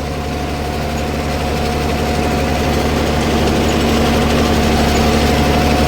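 A Swaraj 969 FE CRDI 70 HP tractor pulling a cultivator through an old sugarcane field gives a steady, loud, low engine drone with constant vibration, close and alone throughout.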